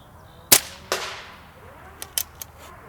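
A Xisico XS60C .22 caliber air rifle fires polymag pellets: one sharp, loud crack, then a second crack about half a second later, followed by a few lighter clicks and clacks near the end, with no voices.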